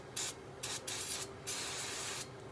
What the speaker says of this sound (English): you're going to want to take your starting fluid or brake clean and